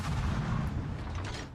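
Heavy booming impacts as torpedoes strike the Des Moines cruiser in a naval combat game, a dense rumbling roar of low explosions sustained through the moment and tapering slightly at the end.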